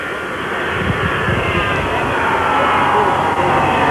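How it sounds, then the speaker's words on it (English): A jet airliner approaching to land at an airport on a clear day, heard as a steady, broad engine roar with wind noise, building slightly in loudness throughout. "It's another jet approaching now."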